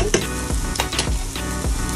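Chopped onion frying in oil with garlic and ginger, a dense crackling sizzle with rhythmic scraping stirs roughly every half second, close and steady.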